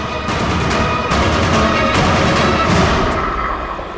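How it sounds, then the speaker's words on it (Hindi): A gunshot in a Hindi TV crime drama, CID, sets off a loud, sustained boom and roar of reverberating noise that fills the clip and eases off toward the end. "गोली चला दी।"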